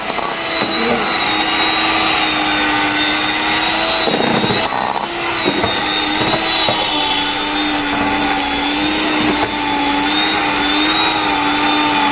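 A machine making lentil bori runs continuously, a loud, steady droning whir with a faint tonal whine that holds unbroken throughout.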